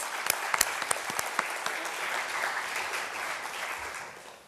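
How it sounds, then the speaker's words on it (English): An audience at a secondary schools debate final claps in sustained applause, a dense wash of many hands with a few sharp nearer claps, which fades out at the end. "we'd like everyone to give them a round of applause for that"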